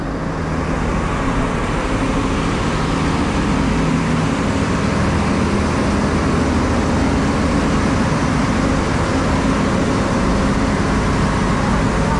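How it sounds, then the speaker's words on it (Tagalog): A garbage truck on a road passes close by in a continuous loud rumble of engine and road noise that holds steady throughout, with no voices. "Yung truck ng basura, oh."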